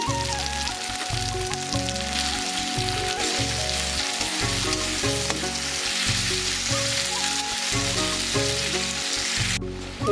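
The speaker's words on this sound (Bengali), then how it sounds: "এখানে দেখো মশলাটা আমাদের ভাজা হচ্ছে" Masala spices fry in a pan for a snail curry, a continuous close sizzle overlaid with a rhythmic, pulsing background tone, with no voices and a sudden cut at the end.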